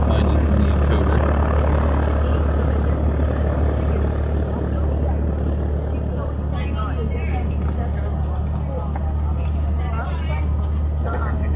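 Hawaiian Airlines airliner passing during plane spotting in Hawaii, a steady broad engine roar holding throughout at fairly even loudness, with a voice talking faintly beneath it.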